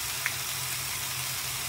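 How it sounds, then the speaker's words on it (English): Mushrooms sautéing in a pan hiss with a soft, even sizzle for a moment, close by and unbroken. "And now I'm just sauteing the mushrooms."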